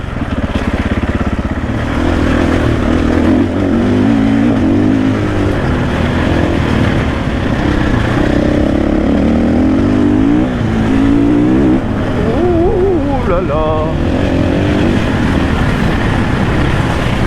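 A KTM 500 EXC-F 2024 enduro motorcycle engine revs and accelerates loudly and close during an enduro ride, its pitch rising and falling continuously for the whole stretch with no talk.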